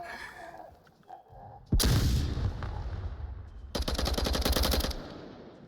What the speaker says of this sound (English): An excellent frag grenade cooked off, and that's going to take Vadi out